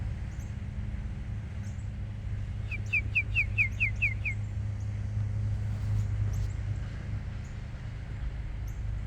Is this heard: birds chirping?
yes